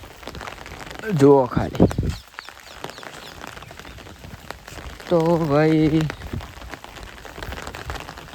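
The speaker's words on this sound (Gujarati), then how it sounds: "જો વરસાદ આવે છે માપનું." Rain patters steadily across an open farm field during monsoon rain, a soft broadband hiss running throughout, while someone talks in two short bursts over it.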